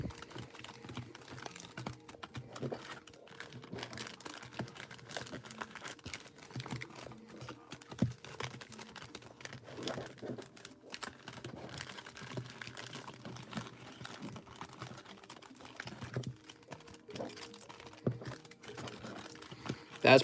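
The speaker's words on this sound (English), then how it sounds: "Okay, let's shuffle them up." Playing cards being shuffled for a board game at home, a quiet run of soft riffling and shuffling clicks lasting about twenty seconds, with no talk over it.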